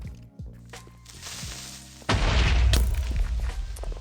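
A creeper explodes in a Minecraft survival game: a sudden loud boom bursts in about two seconds in, following quieter game sounds, then rumbles and decays.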